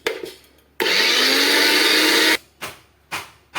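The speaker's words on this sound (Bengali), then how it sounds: "এই দুটো আলাদা আলাদা মিক্সির জারে পাউডার করে নেব" A kitchen mixer grinder jar powdering nuts: one sustained loud whirring run of about a second and a half, followed by several short pulsed bursts, close to the listener.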